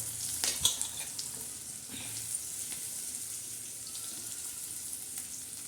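Onion and garlic fry in hot oil with curry leaves for a spicy egg curry, giving a steady close sizzle and hiss with a few clinks of a spoon at the start.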